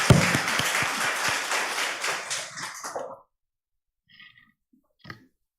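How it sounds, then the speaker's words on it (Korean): A church congregation claps together for about three seconds at a Korean Sunday worship service after the choir's praise, then the sound stops, leaving quiet with a few faint clicks and a soft cough. "하나님께 영광 박수 드리겠습니다."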